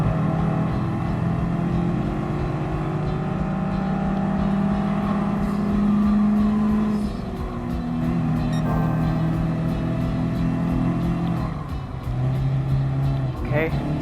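Engine of a Honda Beat kei car in Gran Turismo Sport, a Lightweight K Cup race, droning steadily with shifting pitch as it revs and shifts, loud and continuous throughout.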